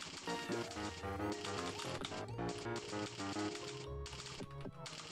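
Rapid mechanical typewriter-style key clacks from a typing video game, dense and continuous with a bright ringing tone layered over them; no talking.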